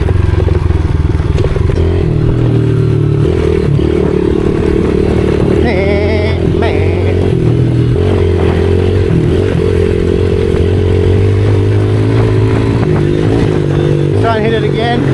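A pit bike rides a flat track on a rifle range, its engine droning loudly and steadily throughout with shifting pitch as it drifts, plus occasional clatter and scrapes, while a voice talks over it.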